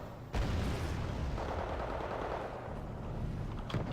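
Gunfire from a real-time strategy war game match, with a dense continuous battle rumble of shooting and weapon fire under a sharp opening burst, loud and sustained throughout.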